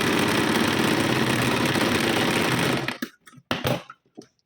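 A sewing machine runs continuously as it stitches half-inch tucks into a blouse, a steady whirring clatter that stops near the end, followed by a few short bursts of handling noise.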